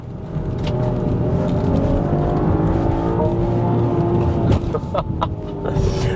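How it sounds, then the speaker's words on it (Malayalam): A BMW X7 SUV in manual mode runs its engine up against the rev limiter, a loud, sustained, rising drone that ends with brief stuttering cuts before it settles back. "മാനുവൽ മോഡിൽ ഇടുമ്പോൾ റെവ് ലിമിറ്റർ ഹിറ്റായിട്ട് ഗിയർ ഷിഫ്റ്റ് ആവുന്നില്ല കേട്ടോ"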